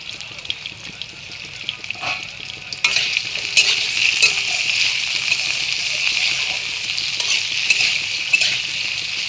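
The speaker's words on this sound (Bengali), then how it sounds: "এবার আমি দিয়ে দেবো আলুগুলো আলু দিয়ে কেটে রেখেছিলাম আলু দিয়ে দিয়েছি" Cut potatoes hit hot oil in a pan and fry with a loud, steady sizzle that jumps up suddenly partway through, accompanied by occasional stirring clatter from a utensil.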